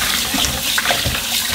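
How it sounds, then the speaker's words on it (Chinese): Pieces of fish rinsed under a running kitchen tap, a steady close splashing and gushing of water that holds throughout without talk. "把鱼肉洗一下"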